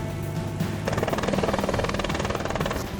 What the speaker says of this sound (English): We are literally in the heat of a manhunt, in a police chopper chasing armed suspects into the woods.